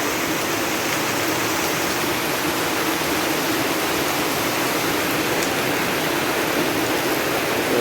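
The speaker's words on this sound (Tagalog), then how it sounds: "Malakas na ulan." Heavy rain pours down hard and steadily during a storm strong enough to flood the area. The dense, loud hiss stays constant and close throughout, with no voices.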